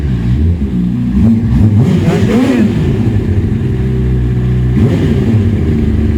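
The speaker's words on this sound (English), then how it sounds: "here comes Charlie with the bike right now" A Yamaha R1 sport motorcycle arrives with a steady engine drone that rises and falls as it revs and shifts, fairly loud and close throughout, with a brief surge of throttle near the end.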